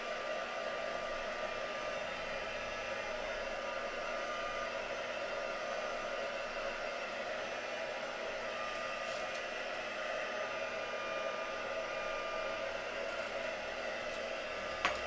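A hair dryer blows steadily to dry painted artwork, a constant close whooshing roar that holds at even loudness throughout with no talking.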